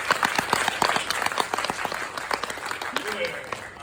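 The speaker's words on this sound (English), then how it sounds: "let's round of applause for the principal." Scattered applause and clapping from a school audience at an early college, fairly brief and moderate, thinning out as a voice talks over the end.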